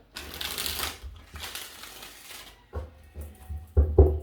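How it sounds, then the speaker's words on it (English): Tarot cards riffle and flutter in two soft shuffling bursts, followed by a few sharper taps and knocks as the deck is squared. "I'm going to give this 3 shuffles for you"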